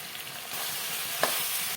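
Eggs frying in a pan for egg chili, stirred slowly, give a steady close sizzle with soft scraping, and one brief sharp tap near the end.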